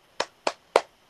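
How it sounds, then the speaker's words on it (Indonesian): Three crisp, evenly spaced group hand claps from a classroom of pupils, close and clean, with near silence between each beat and no talking. "Kita kasih tepuk tangan dan tepuk hebat ya"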